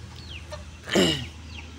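A single short cluck from an Aseel rooster rises over quiet farmyard background, with faint bird chirps around it.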